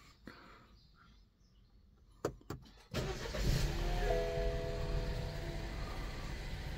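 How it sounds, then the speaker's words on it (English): A 2014 BMW 118i F20 engine starts after a couple of sharp clicks, cranking and catching into a steady idle that hums on close by, with no talking over it. "we're going to turn on the car."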